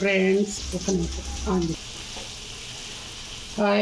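Curry leaves drop into a hot pan of tamarind rasam with a bright crackling sizzle that flares and then settles. A voice speaks briefly at the start and again at the end.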